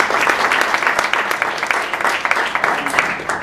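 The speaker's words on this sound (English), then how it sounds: "give a big round of applause to your panelists" Audience applause for panelists at a startup conference in Toronto, a moderately loud burst of many hands clapping with distinct individual claps standing out, slowly tapering.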